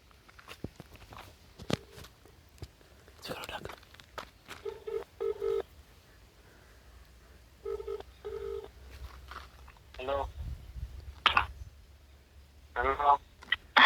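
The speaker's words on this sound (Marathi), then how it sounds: "लावला मित्रांनो कॉल" A phone number is dialed on a mobile handset, giving a series of short tones and taps close by, with faint background noise and some voices.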